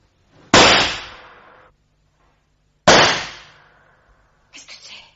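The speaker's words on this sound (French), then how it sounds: "vous avez entendu, on a tiré" Two sharp gunshots ring out inside a museum, each a loud crack with a short echoing tail, a couple of seconds apart. A faint clatter follows at the end.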